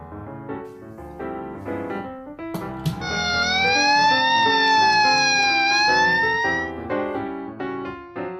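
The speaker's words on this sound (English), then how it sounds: "fire truck" Fire truck siren in a street setting, a loud rising and falling wail that swells to a sustained peak in the middle and then eases, with no voices.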